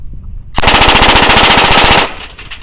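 A Sig M17 pistol fires on full auto in one loud, rapid burst lasting about a second and a half, the shots blurring into a continuous rattle that cuts off abruptly.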